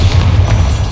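Bombarda blasting spell explosion in Hogwarts Legacy, a short, loud, deep boom that fills the whole second with heavy low-end rumble.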